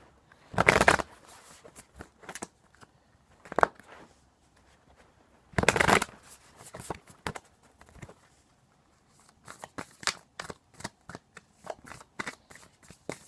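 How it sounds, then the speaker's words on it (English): Cards being shuffled in a few loud riffle bursts, followed by quieter rapid card flicks and taps, close by with no talking. "And then from there I'll just shuffle the decks I plan on using."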